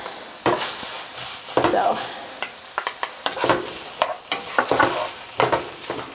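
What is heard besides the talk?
onions and garlic cooking in a pan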